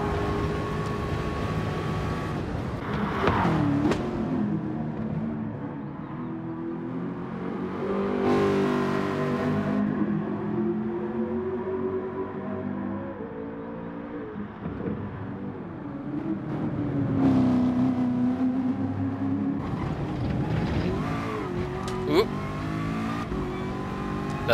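Ford GT LM race car in GT Sport, its engine revving and shifting through gears at high speed with rising and falling pitch, steady and close throughout.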